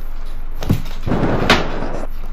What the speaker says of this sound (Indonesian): Kucing anjing main-main pintu